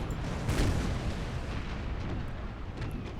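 Naval cannon fire in the game Empire: Total War, heard as a dense, continuous rumble of booming broadsides with a stronger burst near the start, no voices.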